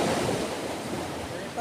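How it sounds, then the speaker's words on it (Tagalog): Sea waves wash onto the beach at Bulalacao in Bicol, a soft, steady surf hiss mixed with wind buffeting the microphone. "dagat."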